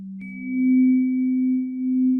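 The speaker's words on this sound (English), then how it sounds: "So there's the exhale tone." An electronic pacing tone for heart rate variability breathing marks the exhale, a steady sustained pure hum that shifts pitch slightly at the start and holds loud and alone.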